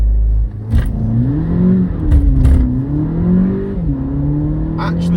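A Volkswagen GTI launching hard from a standstill on a wet road with traction control off in sport mode. The engine is loud and close, rising sharply through one gear, dipping at a shift, then pulling up again.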